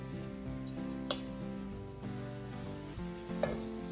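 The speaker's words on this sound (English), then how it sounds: "I can hear them sizzling already." Pancakes sizzle in coconut oil in an iron skillet, a soft, steady frying crackle close by with a couple of brief louder pops, no talking.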